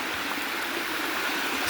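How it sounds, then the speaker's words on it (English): A waterfall in a nature setting gives off a steady, rushing hiss of falling water that stays constant and fairly loud, with no talking. "I could walk through. Waterfall."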